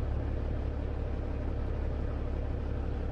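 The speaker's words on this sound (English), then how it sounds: "Love this truck. Sounds amazing. Love the engine that comes with it." A Cummins N14 engine idles in a Freightliner FLB truck in American Truck Simulator, a steady, continuous low rumble that holds evenly throughout with no talking.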